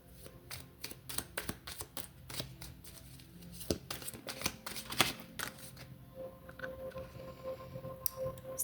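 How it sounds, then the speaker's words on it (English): Tarot cards shuffled and pulled from a deck, giving a steady run of crisp riffling flicks and soft slaps close by, continuing for several seconds without talk. "I'm going to pull some final cards to see if there's any additional messages."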